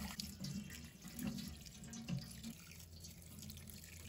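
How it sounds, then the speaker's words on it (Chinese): Tap water runs steadily into a basin while a sea bass is rinsed under the flow. The splashing and trickling are fairly soft and uneven, with small sloshes as the fish is handled, and no one speaks. "用流动的清水多清洗几遍， 把鱼肚子里面的黑沫和血沫全部给它清洗干净。"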